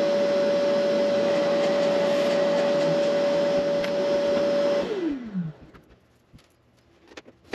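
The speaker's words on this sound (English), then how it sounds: "I'm gonna go nip that on the bandsaw." A bandsaw runs loud and steady, cutting wood for a parlor guitar build, then winds down with a falling whine and goes quiet.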